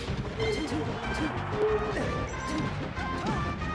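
Down smash attacks land in a Super Smash Bros. Melee doubles match, sharp hit and crash effects bursting over game sounds while a commentator talks excitedly throughout.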